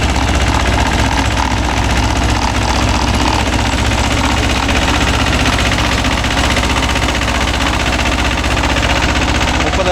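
A Mahindra 265 DI tractor drives a 36-blade rotavator in a field, its diesel engine chugging loud and close in a steady rumbling drone with rapid rhythmic knocking from the spinning blades throughout.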